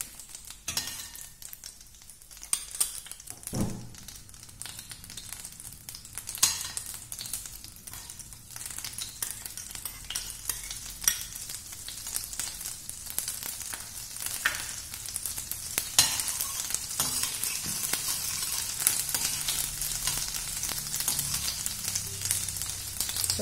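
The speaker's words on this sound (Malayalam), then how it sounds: "ബട്ടർ മെൽറ്റ് ആകുമ്പോഴത്തേക്കും നമ്മൾ എടുത്തു വച്ചിരിക്കുന്ന പൊടിയായിട്ട് അരഞ്ഞ ഗാർലിക് ഇട്ട് കൊടുക്കും." Crushed garlic frying in melted butter in a pan for a roasted broccoli and tomato soup: a continuous crackling sizzle that grows louder and denser, with a knock and occasional spoon scrapes, close by and with no talking.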